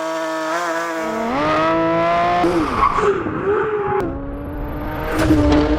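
A Porsche 992 911 GT3 RS with a naturally aspirated 4.0-liter flat-six revs close and loud through rising and falling gear pulls, a sharp shift, and a brief tire-squeal edge. It is heard alone with no talk.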